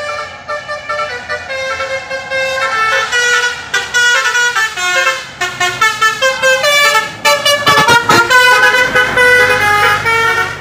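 A Chandra bus plays its telolet musical horn in a rapid run of bright, tuneful toots. The melody is loud and close and carries on for several seconds over traffic on an uphill road.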